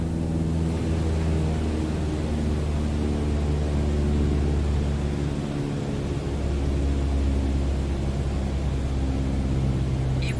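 A small propeller airplane engine drones steadily after the throttle is eased back to 1,800 RPM in Microsoft Flight Simulator 2020. The hum is constant and low-pitched with a broad hiss of wind, and no one speaks.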